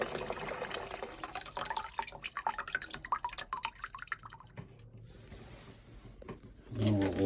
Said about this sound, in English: Still draining from outside.